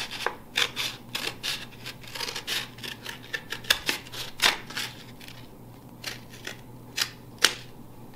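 Scissors snipping through craft material in a quick, irregular run of crisp close cuts, fairly quiet, over a steady low hum.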